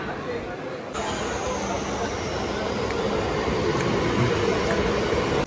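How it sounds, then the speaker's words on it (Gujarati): A train at a Mumbai railway station rumbles steadily and close by as a loud, continuous roar of wheels and carriages, with a faint high whine running above it. "જોઈ શકો છો આ ટ્રેન આપણે પકડવાની છે."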